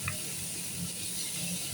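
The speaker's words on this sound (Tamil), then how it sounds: "4 பல்லு பூண்டு, ஒரு துண்டு இஞ்சி, ஒரு வெங்காயம், சின்ன வெங்காயம், கொஞ்சம் தேங்காய், இதை நல்லா வதக்கிட்டுறணும்" Garlic, ginger, onion, shallots and coconut sautéing in a pan give a steady, close frying hiss that runs unbroken at an even level.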